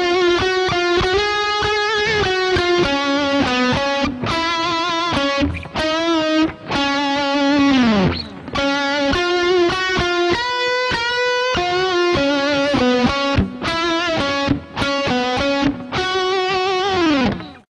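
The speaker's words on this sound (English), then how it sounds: "try to create sort of undulating distortion" Heavily distorted electric guitar notes ring out with a wavering, undulating tone, struck repeatedly in sustained phrases with brief breaks between.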